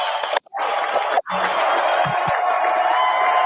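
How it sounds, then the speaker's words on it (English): An audience at a live show cheers and whoops for a Jamaican restaurant's team, a loud crowd roar with shouts, broken by two brief cuts near the start. "Give them a big round of applause, ladies and gentlemen"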